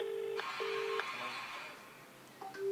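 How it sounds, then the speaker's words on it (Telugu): A telephone gives a short run of clear keypad dialing tones, steady beeps of differing pitch separated by brief gaps, close and fairly quiet. "ఆయనకే ఫోన్ చేద్దాం."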